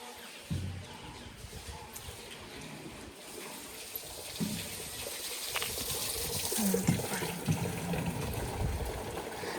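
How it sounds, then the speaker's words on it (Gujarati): Water runs without pause at a Gujarati temple near Ambaji, a steady close wash with occasional louder gurgles and splashes, and faint bird calls in the background. "આ પાણી કોઈ દિવસ બંધ નથી થતો ને?"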